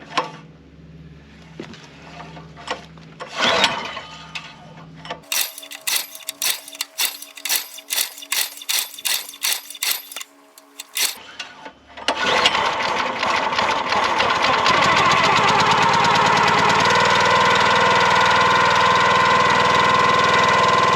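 A Countyline 25 ton log splitter's gasoline engine is cold started with the choke: a few pull-cord tugs, then a rapid rattling crank, then the engine catches and settles into a steady, loud, close running drone.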